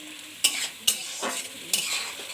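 Onion frying in ghee with cardamom and peppercorns, a steady close sizzle broken by three or four sharp scraping stirs of a spoon in the pan.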